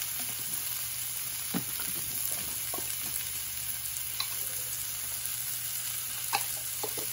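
Pork okonomiyaki, Kansai-style Hiroshima-yaki with egg, sizzling steadily on a restaurant griddle in Osaka, a constant close frying hiss with scattered sharp pops and ticks of spattering oil, no talk.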